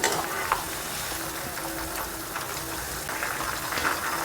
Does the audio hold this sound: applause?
no